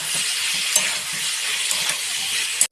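Chili paste being stirred and fried in a pan for an egg and potato curry, a dense steady sizzle with soft rhythmic scraping underneath and a sharp clack at the end.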